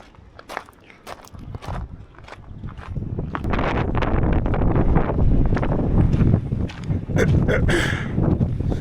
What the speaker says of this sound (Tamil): பயங்கர காற்றடிக்குதுங்க